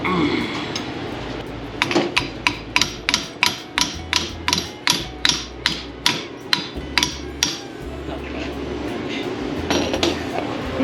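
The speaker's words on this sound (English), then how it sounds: "When in doubt, hammer it out." Metal hammering on a race car being rebuilt from a wreck: a rapid series of about twenty sharp, ringing strikes close by, bunched in the middle over a low background rumble.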